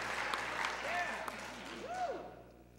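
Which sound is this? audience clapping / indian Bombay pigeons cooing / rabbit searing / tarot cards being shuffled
audience clapping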